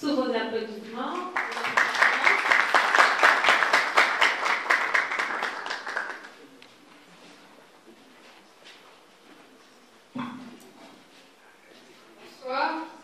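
Audience applause at a poetry reading during the MINGI WINGI 2024 event, a dense burst of clapping that swells for several seconds and then fades. A voice speaks just before it, and brief sounds follow in the quiet afterward.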